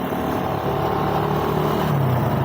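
Road traffic with vehicles passing and engines revving, a steady continuous rumble that stays fairly loud throughout, with no voices.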